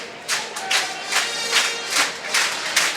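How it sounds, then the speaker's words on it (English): A college hockey arena crowd at RPI versus Boston College cheers and shouts in repeated rising bursts, a roomy, echoing roar swelling and fading several times. "The RPI goal sort of made this crowd excited a little bit"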